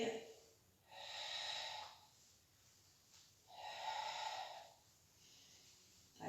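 Breathing out during a Pilates exercise: two long, steady exhalations, close and fairly soft, with a quiet pause between them and no talking.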